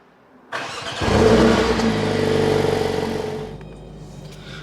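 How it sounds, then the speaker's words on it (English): A new Mercedes-AMG A45 S engine starts abruptly and swells into a loud, close rumble, then eases back to a lower idle before the sound drops away near the end. "Now let's actually take the car for a little spin."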